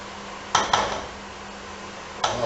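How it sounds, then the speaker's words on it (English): Spoon stirring pumpkin soup in a pot, three short metallic clinks against the pot's side, close and distinct, separated by a quiet background hum. "Give that a good stir."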